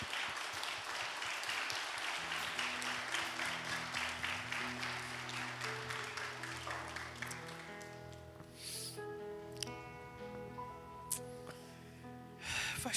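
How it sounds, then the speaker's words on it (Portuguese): A church congregation claps together in a dense, lively patter over sustained keyboard chords, and the clapping thins out as the music carries on. "Aplauda ao Senhor, porque Ele é muito bom"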